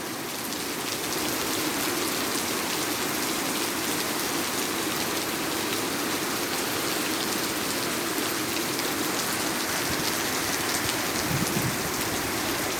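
Rain falling steadily: a dense, even hiss of drops on surfaces that stays constant and close the whole time, with no voices.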